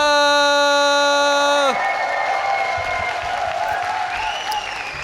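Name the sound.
audience cheering and applauding at StarCraft II tournament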